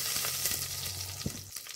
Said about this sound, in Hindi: कुकर में घी डालेंगे। घी के गर्म होते ही